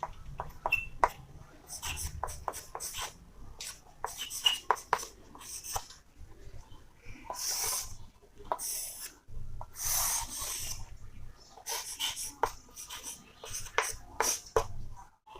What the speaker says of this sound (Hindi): तो इसी बात को हम यहाँ पर लिख लेते हैं।